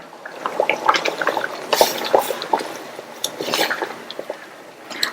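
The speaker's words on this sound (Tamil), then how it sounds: "மிக்ஸி ஜாரை கழுவி கொஞ்சமா தண்ணி சேர்க்கிறேன்" Water splashes and trickles into a rinsed mixer grinder jar at close range, with clinks and knocks of the jar against a hard surface.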